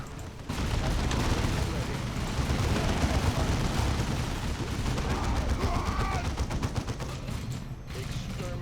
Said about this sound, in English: Our heavy bolters are deadly, but they take time to set up and have a limited field of fire